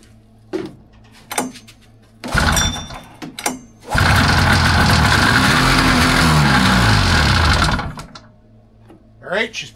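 A 1982 Polaris Cutlass 440 two-stroke snowmobile engine on premix fuel cranks in short bursts, then catches and runs loud and rough for about four seconds before cutting out, with people talking around it.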